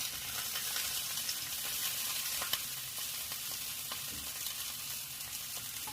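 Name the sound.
food frying in a pan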